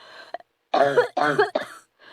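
Three harsh, raspy coughs from smoke in quick succession, loud and close, followed by a short wheezy breath.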